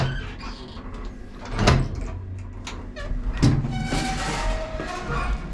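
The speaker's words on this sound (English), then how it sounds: "So it's got those two doors that you close inside for the safety feature, and then this big door here that unless it's closed, the elevator won't move." The inner safety doors of an old apartment elevator in Belgrade are closed, giving two sharp metallic clacks with sliding and rattling in between, close by and without talk.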